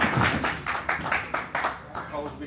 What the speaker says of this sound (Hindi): अभी तक बहुत तालियां बजी हैं